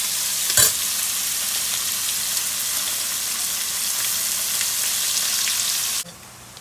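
Onions frying in a pan of hot oil with whole spices for a Bengali fish head and cabbage dish, a steady close sizzle with one sharper burst near the start, cutting off abruptly near the end.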